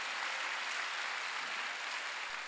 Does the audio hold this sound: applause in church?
yes